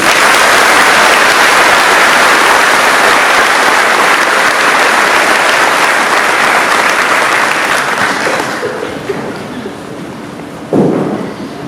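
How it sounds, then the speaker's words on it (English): Graduation ceremony audience gives a loud sustained round of applause, dense clapping filling a hall for about eight seconds before fading out into quiet room noise. "Round of applause."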